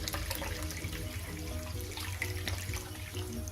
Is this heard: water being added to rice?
yes